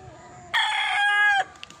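A gamecock bull stag rooster crows once, loud and close, a bright sustained cock-a-doodle-doo lasting about a second against quiet farm background noise.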